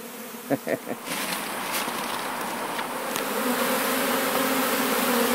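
A dense swarm of about 40,000 bees buzzing steadily and fairly close, the drone thickening over time, with a few brief knocks near the start.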